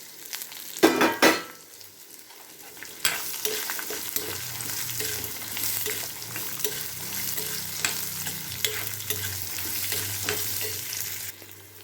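Carrots and roasted peanuts are stirred and sautéed in a pan for a chutney, with a steady oily sizzle under repeated scraping strokes and clinks of the spatula against the pan.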